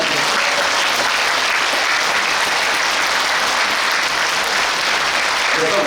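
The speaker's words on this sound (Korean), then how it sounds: "박수 한번 크게 치시면" Audience applause fills a book concert hall in a dense, steady roar of clapping from a large crowd, continuous and loud from start to finish with no break.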